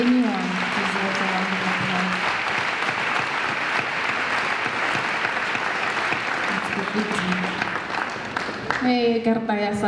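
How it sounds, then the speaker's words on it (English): A crowd gives a sustained round of applause, steady and full for nearly ten seconds, with speaking voices over the start and the end. "I think if anyone deserves a round of applause"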